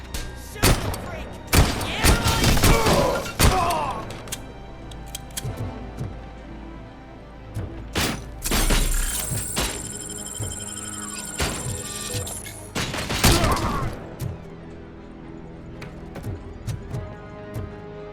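Gunfire in the RoboCop: Rogue City video game, sharp bursts of loud shots and heavy thuds in clusters, with an electronic whine in the middle and shouting voices between.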